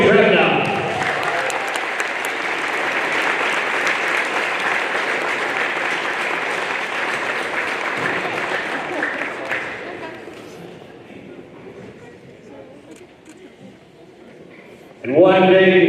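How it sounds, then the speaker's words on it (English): A gym crowd applauds the senior players at a high school girls' basketball game, a loud, sustained roar of clapping and cheering that slowly fades over about ten seconds before an announcer's voice returns. "And one big round of applause for all of our seniors tonight."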